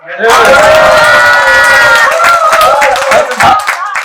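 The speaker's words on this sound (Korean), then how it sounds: "박수!" Audience clapping and cheering at a live talk event in Korea, loud and close, with shouts and whoops over rapid applause that fades into scattered claps.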